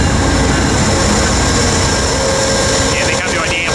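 A freight train rumbles loudly past a station, a broad continuous roar of wheels and engines close by, with a brief squeal near the end.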